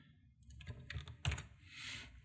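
Computer keyboard keys pressed for a shortcut while working in After Effects, a few close, distinct clicks with a sharper tap near the middle, against a quiet room background.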